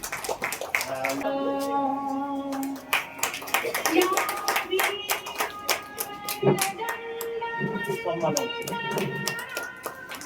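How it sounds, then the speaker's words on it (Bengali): Audience applause at a Bengali theatre festival stage event, a steady spread of clapping lasting the full stretch with musical tones and voices mixed in over it. "একটু হাততালি দিয়ে ওনাকে"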